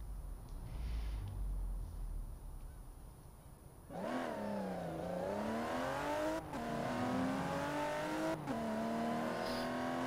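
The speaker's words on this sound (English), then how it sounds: "Like every Range Rover engine sound." A 2018 Range Rover Velar engine in a video game idles low, then revs up at about four seconds, its pitch rising and falling through a few gear changes, with audible turbo, steady and fairly close.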